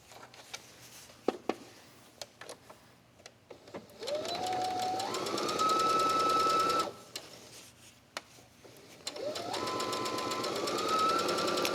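A sewing machine stitches quilt fabric strips for a tablet cover in two long bursts. Each burst starts with a whir that rises in pitch and then holds a steady, rapid hum, after a few scattered clicks and taps.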